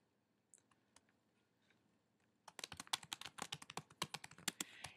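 A computer keyboard clatters with quick, close taps as a name is typed in, a rapid burst of keystrokes following a second or two of near silence and a few stray clicks.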